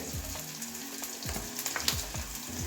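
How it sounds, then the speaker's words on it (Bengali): Mustard oil poured into a wok heating on a gas stove gives a soft, close sizzle, with a few light metallic clinks and scrapes scattered through a short stretch. "এদিকে গ্যাস ধরিয়ে কড়াইটাও বসিয়ে দিয়েছি এবারে সর্ষে তেল ঢেলে নিচ্ছি"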